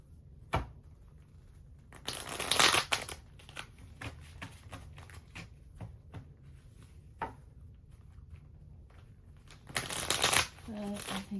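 A deck of game cards is shuffled close up, with quick riffling bursts and softer handling sounds in between, fairly quiet and set against a low room hum.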